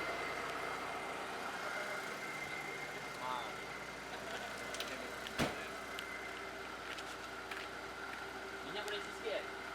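A BMW E36 engine idling at a low, steady rumble, with a sharp knock or clunk partway through and scattered small clicks, as people talk nearby.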